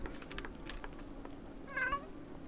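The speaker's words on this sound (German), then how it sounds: "Ganz, ganz böse Katze." A cat in The Sims 4 video game gives a short, clear meow near the end, faint and close, with no talking around it.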